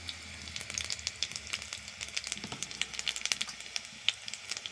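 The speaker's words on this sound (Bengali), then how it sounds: "কড়াইতে তেল দিয়ে দিয়েছি, লঙ্কা কাটা দিয়ে দিচ্ছি, 5 ফোড়ন," Chopped chillies and five-spice seeds frying in oil in a wok, a steady close sizzle with dense crackling spatters and pops throughout.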